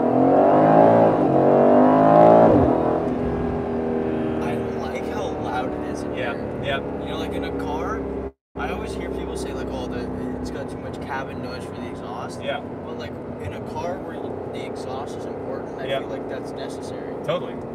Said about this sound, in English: This is the right amount of exhaust noise that gets into this cabin.